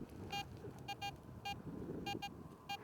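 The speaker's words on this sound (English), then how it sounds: "You hear this double beep?" A metal detector out colonial relic hunting gives repeated faint electronic double beeps over a button in the ground, short paired tones coming at uneven intervals over a low outdoor hiss.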